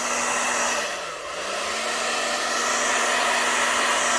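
A hair dryer runs steadily on shimmer-sprayed tissue paper, a loud close whooshing drone whose pitch dips briefly as the airflow shifts, then holds constant with no talking.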